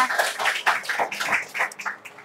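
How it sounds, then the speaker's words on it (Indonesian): A high school class in Kota Tangerang applauds a student in the classroom: a dense, uneven patter of many hands clapping at close range, steady for about two seconds with no talk over it. "Oke, kasih tepuk tangan buat Hairunisa"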